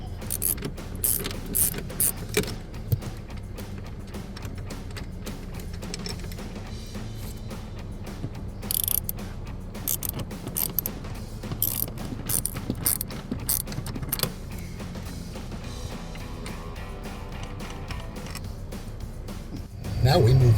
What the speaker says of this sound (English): remove the 2 rear seat bolts, and we'll be saving those for later